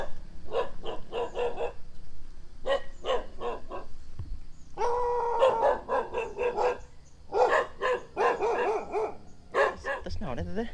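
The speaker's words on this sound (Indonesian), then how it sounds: "Gonggongnya mereka." Several dogs bark repeatedly in a foggy highland village, rapid bursts of yaps and barks in clusters with short pauses, fairly close and loud, some higher whimpering yips mixed in.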